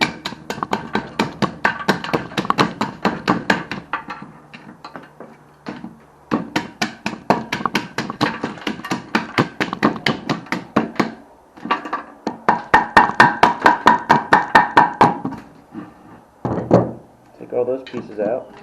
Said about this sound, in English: I will take my hammer